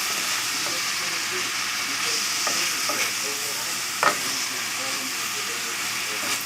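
Vegetables softening in a pot with salt and pepper, sizzling with a steady hiss while a spoon stirs and scrapes, giving occasional clear knocks against the pot.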